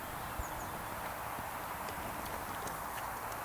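Horse cantering during a French riding lesson on improving the horse's back, with a steady clip-clop of hooves on the ground continuing throughout and a faint wind-like hiss behind it.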